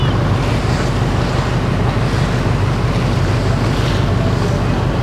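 A river cruise boat moves along the Tagus River in Lisbon, with a steady loud rush of water and waves mixed with heavy wind buffeting close to the microphone, no voices.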